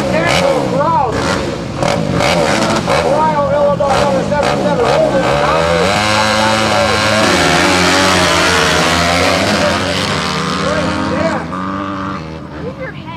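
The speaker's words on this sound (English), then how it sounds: "These are 250cc four-stroke engines. You can hear the thunder already in the 250s." 250cc four-stroke motorcycles racing in a heat on a TT track in Macomb, Illinois. Loud, droning engines rise and fall in pitch as the bikes rev and pass, sustained throughout and fading near the end.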